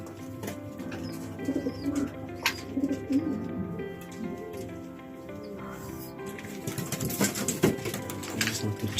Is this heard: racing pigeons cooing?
yes